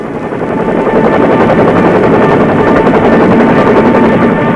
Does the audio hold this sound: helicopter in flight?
yes